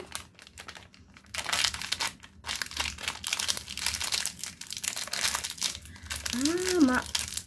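Candy wrappers crinkle and rustle up close as they are opened, a continuous crackling with bursts of louder tearing, while a person talks throughout.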